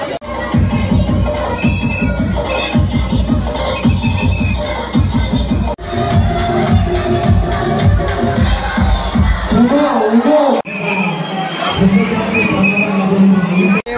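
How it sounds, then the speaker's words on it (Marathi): A dense crowd at the Kelamba temple during Navratri, a continuous babble of many voices with shouts and nearby chatter, loud and close throughout. "मंडळी गर्दी बघा, गर्दी किती आहे"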